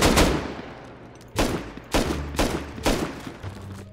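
Gunshots at a cupboard lock in the video game Rust ring out as five loud, sharp, close reports spaced roughly half a second apart, each with a short decaying tail.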